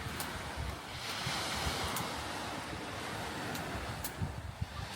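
Sea waves wash continuously near the shore, a broad, steady roar with occasional louder breaking surges and wind buffeting the microphone, no voices.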